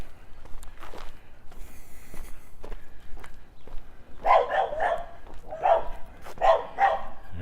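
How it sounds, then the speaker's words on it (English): Dogs bark near houses in a residential street in northeast Regina, several sharp bursts in quick clusters at moderate distance, following quieter footsteps and faint yips earlier on. "more barking, more dogs who don't like the fact that someone is talking in the street"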